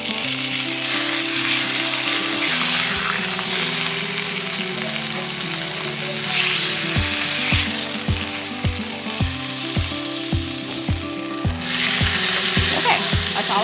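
Bear meat browns in a hot pan with a loud, continuous sizzle, joined partway through by a rhythmic series of clacking scrapes as the pieces are turned and stirred.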